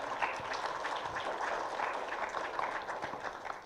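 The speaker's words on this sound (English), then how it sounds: "a big round of applause to Mr. Ranganathan," Audience applause after a talk at a panel session, a moderate, steady patter of many hands clapping, somewhat distant and unbroken throughout.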